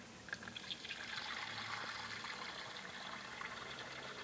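Fresh water trickles and pours into an animal's water container during an evening farm routine with goats, a soft, fairly faint splashing stream lasting a few seconds, with no talk.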